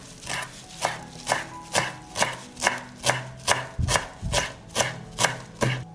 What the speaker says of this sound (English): now I'm going to chop the parsley.